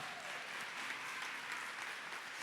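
Church congregation clapping in a continuous, even patter, somewhat faint and distant, with no voices over it.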